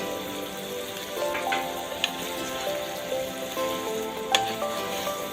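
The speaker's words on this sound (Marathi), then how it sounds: "छान परतून घेऊया।" Onions with a little turmeric and salt sautéing in a pan for Nagpur-style Saoji mutton, giving a steady close sizzle with occasional crackles and soft stirring scrapes, alone with no voices.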